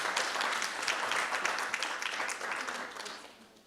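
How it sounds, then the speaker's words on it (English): Audience applause at a media launch event for an African leadership forum, a dense, steady wash of many hands clapping that holds for several seconds and then thins out toward the end. "Let's give Kwachi another round of applause"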